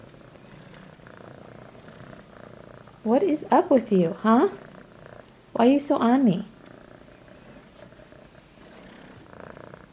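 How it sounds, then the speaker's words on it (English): Soft, continuous cat purring up close while thunder rolls outside, interrupted by two short bursts of a person talking to the animal. "He's purring up a storm."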